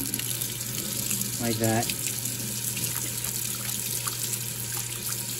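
Tap water runs steadily into a sink as Levoit LV600S humidifier pads are rinsed, and a short burst of splashing rises midway through. A person says a few words quietly over the flow.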